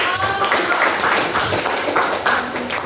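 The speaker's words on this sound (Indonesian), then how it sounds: "silakan beri tepuk tangan untuk kelompok" A classroom group is applauded by fellow students after a presentation; a steady, dense patter of many hands fills the room at moderate volume for a few seconds.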